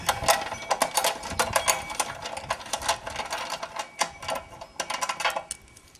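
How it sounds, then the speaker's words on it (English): A wrench working half-inch bolts on a Triumph engine during a rebuild, a quick run of light metallic clicks and ratcheting taps, close and fairly faint, with no talk. "Next, this half-inch bolt. One on each side there. Yeah, just undo these two bolts."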